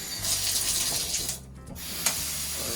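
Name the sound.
water running in a small hotel room sink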